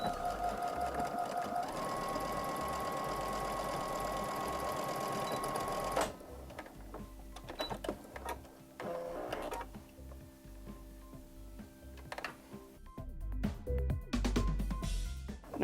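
Sewing machine stitching fabric for a small pocket bunny, a rapid steady whirring run for several seconds, then stopping into scattered clicks, handling noises and short bursts of stitching.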